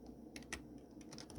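A few light key taps on a computer keyboard sound faintly and close, in an uneven sparse run over a low background hum, during a Debian Linux setup.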